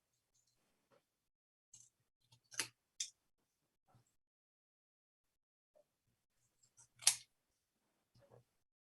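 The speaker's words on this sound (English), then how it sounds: "I can get my scissors out and I can just try and cut." Scissors snipping through a recycled Christmas card, a few sparse, quiet crisp cuts with pauses between, including two sharper snips.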